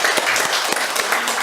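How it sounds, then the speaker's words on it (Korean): A church congregation applauds together at a Wednesday service, a steady, dense wash of clapping with a few sharper claps standing out, loud and close, with no voices over it. "격려하는 의미에서 박수를 한번 치도록 하겠습니다."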